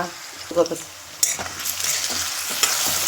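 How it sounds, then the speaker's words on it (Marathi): Raw potato pieces sautéing in hot oil in a pan for a Navratri potato bhaji, with a steady sizzle, repeated stirring scrapes and occasional utensil clinks close by, no talk. "तेलामध्ये बटाटा परतवायला टाकला आहे"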